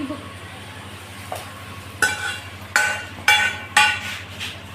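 Hot tadka (tempering) tipped into a pot of kadhi: several short, sharp bursts of sizzling and clattering come at uneven intervals over a steady low hum.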